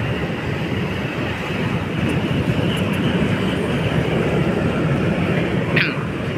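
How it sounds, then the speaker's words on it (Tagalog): An LRT Line 1 train rumbling across an elevated bridge over water, a steady broadband roar holding at constant loudness throughout, with a brief higher squeal near the end. "Ayan, LRT 1 yan mga kabayan."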